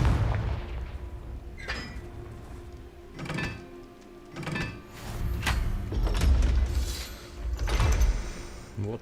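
Confringo explosive spell blasts in Hogwarts Legacy, several sharp booming bursts spaced a second or two apart, loud and close, with rumbling effects between them.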